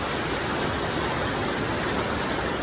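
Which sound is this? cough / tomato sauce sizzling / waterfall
waterfall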